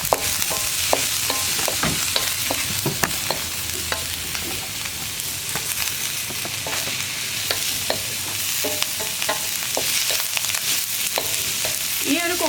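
Onions sauté over a high flame for an egg chilli capsicum dish, a dense continuous sizzle close up with repeated sharp scrapes and taps of a spatula stirring in the pan, no voices.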